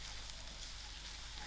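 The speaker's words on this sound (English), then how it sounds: "I'm also going to add in my green chilies, so it will fry out." Green chilies fry in a pan of oil while a fish head curry is being cooked, giving a steady, soft, close sizzle that runs without a break, with no talking over it.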